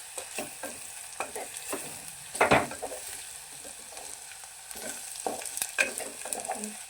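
Whole spices and masala rice fry and get stirred in a pressure cooker, a steady sizzle under repeated scraping, clattering strokes of a spoon against the metal, close and fairly quiet, with one louder scrape midway.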